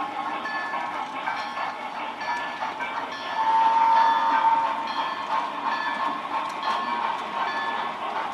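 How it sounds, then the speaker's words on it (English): A model railroad freight train rolls through a miniature station and crossing, a steady rumbling clatter with a brief high whistle-like tone swelling in the middle, no voices. "our freight train is going to clear the station and the crossing"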